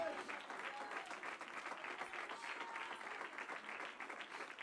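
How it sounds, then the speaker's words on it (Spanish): A church congregation claps for the Holy Spirit in a steady, fairly faint burst of applause with scattered individual claps and some voices mixed in, lasting under five seconds. "Dele un aplauso al Espíritu Santo."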